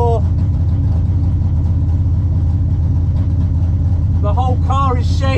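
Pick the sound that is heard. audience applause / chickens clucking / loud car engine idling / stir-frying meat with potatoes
loud car engine idling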